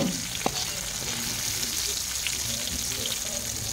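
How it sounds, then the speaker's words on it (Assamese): Eggplant pieces fry in plenty of hot oil for an Assamese dish, giving a steady, close sizzling hiss that runs throughout with a few faint clinks. "প্ৰথমতে তেল বেছিকৈ দিয়ে ভাজিছোঁ বাৰু"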